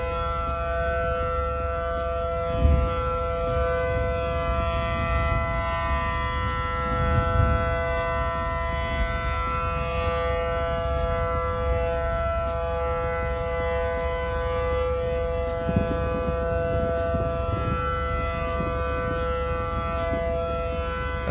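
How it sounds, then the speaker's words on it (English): A single very loud civil defense siren sounds in a video game, a steady continuous wail holding at full volume throughout with no speech over it. "A single siren. And it's that loud."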